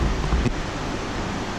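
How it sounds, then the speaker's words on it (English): Strong wind from the south blows steadily outdoors with a dull roaring rumble and microphone buffeting, constant and loud throughout, with a brief gust near the start. "The wind is actually blowing fairly hard right now out of the south"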